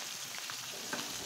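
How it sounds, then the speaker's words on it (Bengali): Small fish fry in oil in a wok, a faint, steady close sizzle with light crackles and a few soft scrapes, no voices over it. "আমার প্রথম ব্যাচটা ভাজা হয়ে গেছে"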